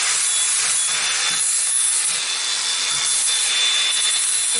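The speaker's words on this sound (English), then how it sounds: "I'm going to go ahead and sand it down." Sandpaper rubs briskly over varnished wood on a tree house throne seat, a loud, steady scratchy rasp with rhythmic back-and-forth strokes and no talking.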